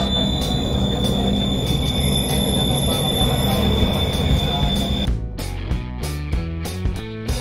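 Jakarta LRT light rail train running with a steady rumble and high-pitched wheel squeal, heard from inside the car, the noise easing slightly as music comes forward near the end.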